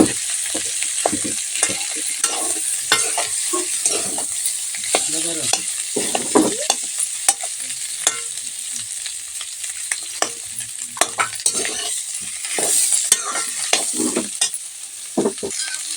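Potatoes and tomatoes fry in a pan while being stirred, an ongoing sizzle broken by frequent scraping and clacking strokes of the spoon.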